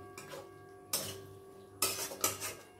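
A spatula scrapes and clinks against a pan while masala with a little water is stir-fried, coming in three separate bursts of close metallic scraping with quiet gaps between; no one speaks.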